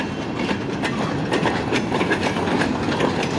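A freight train of Duluth, Missabe and Iron Range converted ballast cars and boxcars rolling past close by, a loud continuous rumble with rhythmic clickety-clack of wheels over rail joints.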